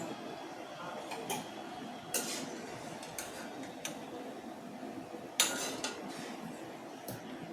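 Golden fried badusha sweets are lifted into sugar syrup, with scattered light metallic clinks and taps of a utensil against the vessel over a quiet room background.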